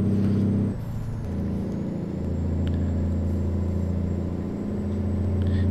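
A simulated truck transmission fitted to a Cessna 172 in Microsoft Flight Simulator works through its gears: a loud, steady engine drone drops in pitch at two shifts, with a brief airy hiss, and no talking.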